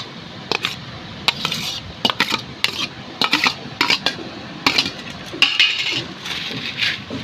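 Bhel puri ingredients, puffed rice with chopped tomato and onion, stirred in a metal bowl with a spoon, giving repeated irregular clinks and scraping rattles close by.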